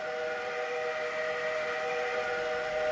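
A train arriving in the Railroader railway simulation game sounds a sustained whistle, steady multi-tone harmonic chords held for the whole few seconds at moderate level over a faint rumble, with no talking.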